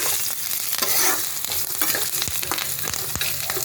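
Spices, sugar, salt and turmeric being stirred in a pan for chira poha, with steady scraping and clinking strokes of a spoon against the pan and a low sizzle underneath.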